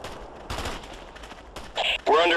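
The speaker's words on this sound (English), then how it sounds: "We're under fire." Short bursts of gunfire in Ghost Recon crack out in the middle distance among quieter stretches, with bright electronic bleeps near the end.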